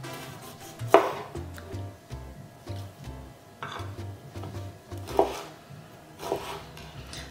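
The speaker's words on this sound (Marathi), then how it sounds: "टमॅटोज आमकां बारीक कातरूंक जाय." Tomatoes being finely chopped on a board while cooking Goan patal bhaji, with a few sharp knife strikes standing out over a steady low kitchen clatter. No voices are heard.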